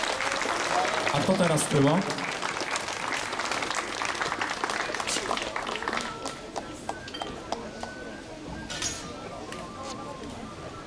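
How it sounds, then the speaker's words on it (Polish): A crowd at the Jarosław fair applauds Oleg with steady, scattered clapping that slowly thins out, while people talk over it. "oklaski dla naszego Olega"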